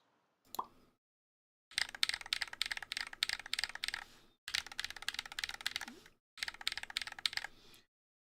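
Bursts of rapid mechanical keyboard clacking on a GMMK Pro with poppy switches, close and crisp, several strings of fast keypresses separated by short pauses, with no talking over them.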